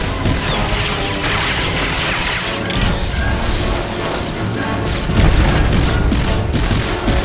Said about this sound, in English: And with one last barrage of missiles, that's down too